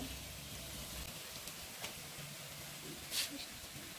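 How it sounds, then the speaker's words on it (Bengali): Onions sizzle gently in a pan while cooking for a duck curry, a soft, quiet frying hiss with a few small crackles and one brief sharp pop. "এবার দিব পেঁয়াজ পেঁয়াজগুলো এবার ভালো করে ভেজে নিব"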